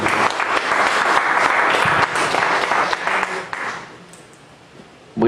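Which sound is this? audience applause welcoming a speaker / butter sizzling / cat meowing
audience applause welcoming a speaker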